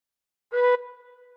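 One gently blown tin whistle note with all holes uncovered, a single pure tone that starts breathy and firm, then thins and lingers softly as it fades, alone and close.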